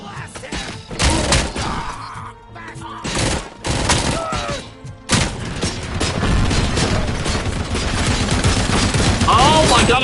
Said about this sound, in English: this is a very different SMG than the ones that I've been using